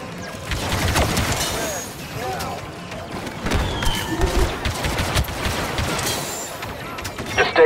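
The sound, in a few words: blaster gunfire in the video game Star Wars Battlefront 2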